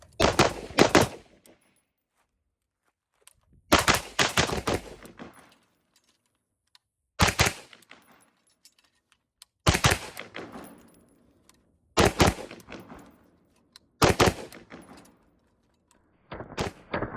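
A 903 Tactical Battle Rifle fires on an outdoor range in loud, sharp bursts: seven separate volleys spaced a couple of seconds apart, each a quick rattle of shots with brief echo, silence between.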